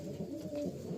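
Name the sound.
pigeons cooing in a pigeon loft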